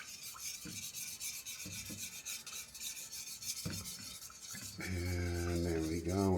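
A spoon stirs cannabis-infused olive oil in a pan, scraping and rasping against the metal in steady strokes, with a brighter sizzling, tonal stretch toward the end; nobody speaks.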